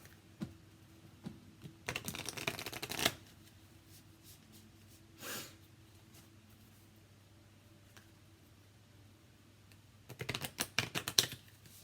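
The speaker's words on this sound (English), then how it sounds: "while I was shuffling this other deck" A deck of oracle cards is shuffled in short riffling bursts, separated by quiet gaps, close and soft, with no talking.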